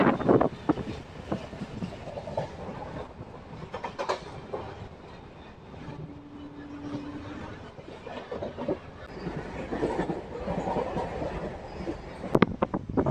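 A Kacheguda–Nadikudi DEMU train rolls along with a steady broadband rumble and rattling, punctuated by sharp clacks and a brief tonal hum midway, heard from on board.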